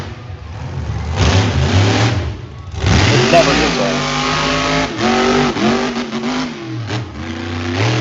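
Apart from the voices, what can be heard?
monster truck engine revving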